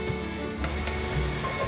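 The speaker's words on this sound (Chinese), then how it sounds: "把红甜椒稍微炒软" Red bell peppers stir-fried in a wok with golden cashews give a close, even sizzle that runs unbroken for under two seconds, with no voices.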